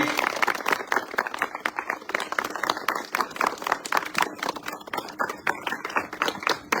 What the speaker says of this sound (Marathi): टाळ्यांचा गडगडाट होऊ दे.